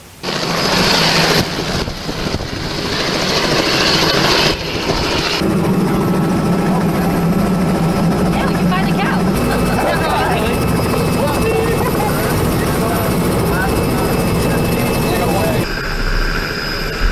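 A helicopter's steady rotor and engine roar fills the scene, loud and continuous, with some voices mixed underneath.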